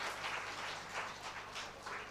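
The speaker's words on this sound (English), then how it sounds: "I think he deserves a very, very warm round of applause for" Faint, distant applause from a seminar audience after an academic presentation, a soft continuous patter of clapping over about two seconds.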